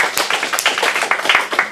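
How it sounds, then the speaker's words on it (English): A small group claps to welcome guests at an acting studio showcase, a short burst of distinct, uneven claps close by rather than a dense roar. "Let's get a round of applause for our guests"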